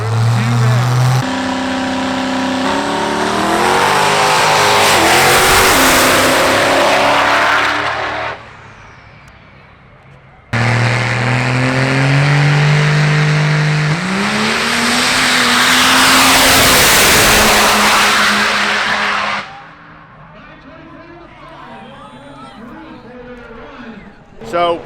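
A Cummins diesel race truck at a drag strip revs hard and accelerates on two loud runs, the engine note climbing and shifting before dropping away, with a voice talking over the roar.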